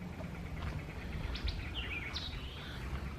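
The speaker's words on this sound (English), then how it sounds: "Birds are singing." Birds sing in a tree-shaded picnic area, giving a few short chirps and whistled calls at a distance over a steady outdoor background.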